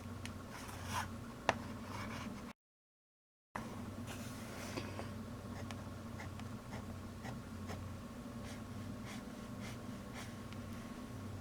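A Jinhao x750 fountain pen with a Kaigelu long knife nib writes on cheap notebook paper, producing soft continuous scratching strokes with small taps, close and quiet, interrupted by a short gap of silence.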